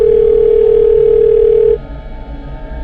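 A loud, steady single-pitch telephone tone sounds while a call is placed to another phone, then cuts off abruptly after nearly two seconds, leaving quiet room noise.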